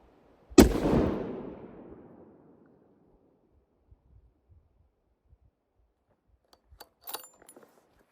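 A single rifle shot fired through a muzzle brake cracks sharply at close range and rolls off in a long fading boom, followed by a few faint clicks and small handling noises.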